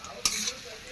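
Food frying in a pan while cooking at home, a soft steady sizzle with a brief louder burst of hissing as something is stirred or added.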